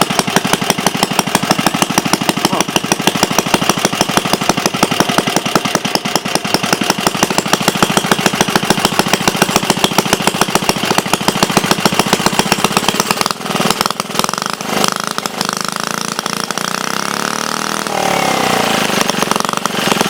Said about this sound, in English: let's take it outside and see if we can start this